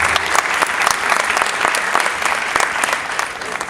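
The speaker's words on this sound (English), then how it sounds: "Yeah, give it a round of applause." An audience at a Q and A event in a Shoe Palace store bursts into steady, dense applause, a loud continuous wash of clapping from a crowd, with a hint of cheering mixed in.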